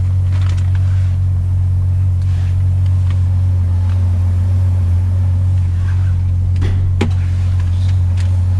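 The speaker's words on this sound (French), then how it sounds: "Donc là, la voiture est en train de chauffer." A Ferrari engine idles while warming up, a steady deep rumble close by with a few brief clicks and knocks near the end.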